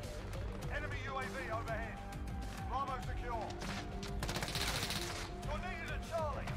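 Rapid gunfire in a Call of Duty-style first-person shooter, dense bursts and scattered shots over rumbling in-game noise, with a player talking over the action.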